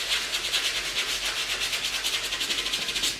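Rhythmic brushing strokes scrub a stained patch on an open-toed, low-cut Toms suede boot, a steady series of close, scratchy rubs with no talking.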